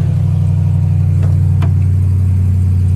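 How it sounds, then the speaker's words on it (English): A Ram TRX pickup truck's engine running after a remote start, a loud steady low-pitched idle rumble droning throughout, close by, with a couple of faint clicks on top and no talking. "Oh, the sweet sound of the TRX is back."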